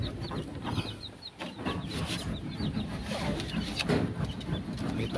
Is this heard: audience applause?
no